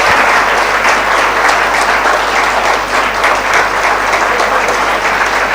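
Loud, dense applause from a college audience at a law college event in Navi Mumbai, a steady wash of clapping that holds evenly for several seconds without letting up.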